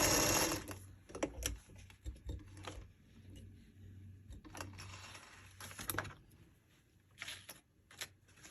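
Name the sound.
sewing machine stitching paper-pieced quilt block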